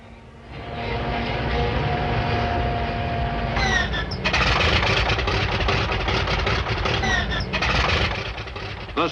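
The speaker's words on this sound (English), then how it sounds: "300 Superforts were ready for the takeoff." Piston engines of World War II B-29 Superfortress bombers start and run up before takeoff, a loud steady droning roar that swells and thickens as more engines join in.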